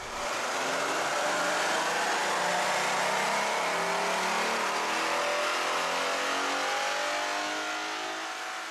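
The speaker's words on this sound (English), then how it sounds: "Let's start with the baseline Dyno Run." A 2011-14 Mustang with a 3.7-liter V6 runs on a chassis dyno, the engine revving steadily upward in one long, loud, continuous pull that holds near full volume before easing off slightly at the end.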